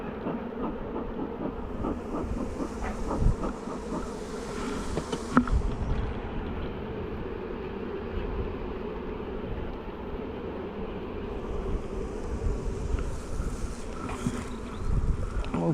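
Honey bees buzzing around an opened hive during a Demaree split, a dense continuous drone of many insects close by, with occasional louder passes and faint handling knocks beneath.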